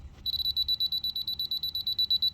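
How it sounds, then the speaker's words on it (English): A laser level receiver's high electronic beep pulses rapidly and evenly, about ten beeps a second, close and clear over a quiet background. "So if it's a fast beep, it means it needs to come down"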